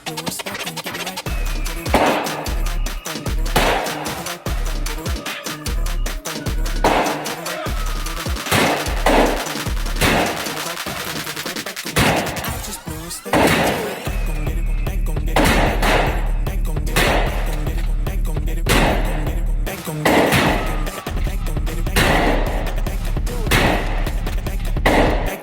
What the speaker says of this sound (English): shooting my DP-12 for the first time